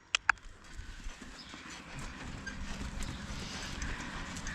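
Horse hooves clop along at an unhurried walking pace, close by, over steady outdoor rumble with a couple of sharp knocks at the start.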